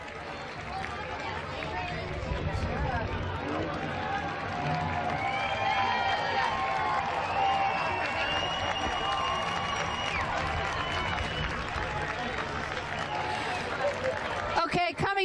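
A parade crowd at a pride event keeps up a continuous roar of cheering and chatter with some clapping mixed in. The sound is broad and steady, and whistles and shouts rise from the mass of people.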